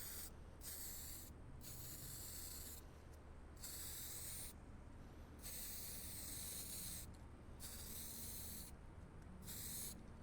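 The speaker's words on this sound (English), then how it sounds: "we're going to use Desert Yellow. We're just going to begin spraying in a nice," An aerosol can sprays Desert Yellow primer onto a batch of three tabletop game miniatures in five or six separate hissing bursts of one to two seconds each, split by short pauses over faint background noise.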